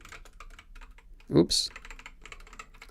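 Rapid, uneven clicking of keys on a new computer keyboard, fairly faint and close, broken by a short spoken exclamation in the middle before the typing resumes.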